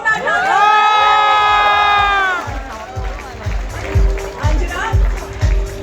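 A large audience at a literature festival stage event cheering and applauding over loud music with a sustained tone, then rhythmic thumping beats as the crowd noise continues.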